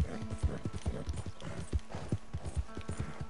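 Horse hooves clip-clop in the Red Dead Redemption 2 video game, a steady, even walking rhythm of soft thuds, fairly quiet and close, with no talking over them.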